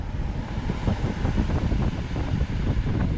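Steady rushing airflow from the air conditioning fan inside a BYD Atto 3 car, broad and constant, filling the clip with no one speaking.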